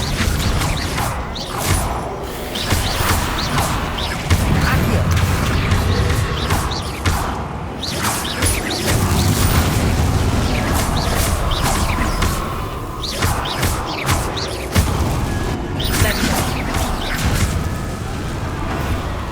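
Spell blasts in the Hogwarts Legacy game rip through a chaotic fight, a dense run of loud crashes, booms and whooshes repeating over about twenty seconds.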